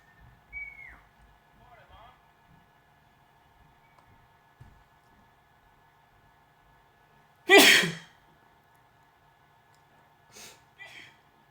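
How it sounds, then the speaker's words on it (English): A person sneezes once loudly indoors, close to the microphone, with soft whistling and small breathy sounds in the quiet before and after, and a couple of smaller snorts or sniffs later. "I am so sorry for sneezing for those that just came in."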